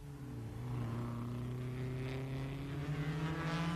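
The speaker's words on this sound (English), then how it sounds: "And at the carousel, the Lancia Ferraris run first and second, right in there, Fangio third, Beira fourth." 1957 Formula One Lancia-Ferrari racing cars at the Nordschleife during the German Grand Prix, their engines droning steadily and loudly with a slowly rising, wavering pitch throughout, with no voices.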